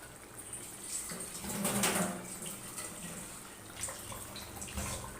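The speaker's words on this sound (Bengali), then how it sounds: "আর সামান্য জল আমি এখানে অ্যাড করে দিচ্ছি।" Water poured into a pot of vegetables for shukto makes a soft, steady splashing pour that swells in the middle, quiet and close with no talking.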